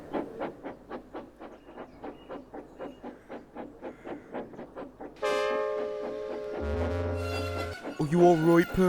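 Cartoon steam engine James rolling down a hill: a steady, quick chuff-chuff rhythm that suddenly gives way to loud, sustained whistle blasts and a harsh screech near the end.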